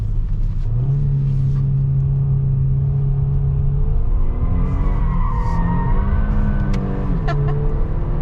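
A 2022 Kia Stinger GT slides around a corner, its tires squealing in a long, wavering skid over a loud, steady engine drone and cabin rumble, heard from inside the car.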